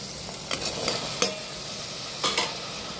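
Cut green beans go into a hot pan for kurma, a close, continuous sizzle with a few crisp clatters and scrapes as they are tossed, no voices.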